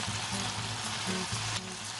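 Chopped tomatoes fry in a pan, giving a steady, close sizzle with faint stirring scrapes and no talking.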